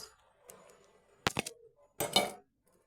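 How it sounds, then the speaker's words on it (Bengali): A spoon mixes raisins into papaya chutney in a pan, heard as a few brief clinks and scrapes against the metal that come in two short bursts amid near silence. "কিশমিশগুলো আমি ভালো করে মিশিয়ে নিচ্ছি"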